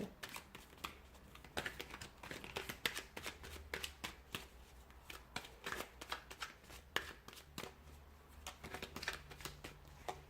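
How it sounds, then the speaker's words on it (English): Rapid, crisp flutters of tarot cards being shuffled in repeated bursts, close and fairly quiet, with a low steady hum beneath. "we'll give the cards a shuffle"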